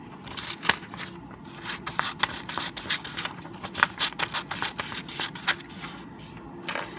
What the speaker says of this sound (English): You can take a square piece of paper and your scissors. Cut a circle.